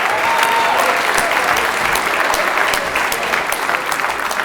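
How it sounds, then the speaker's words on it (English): Loud, dense crowd applause fills a South Carolina Football Hall of Fame enshrinement ceremony, sustained and even from start to finish, with no speech over it. "How about a big round of applause for your South Carolina Football Hall of Fame team?"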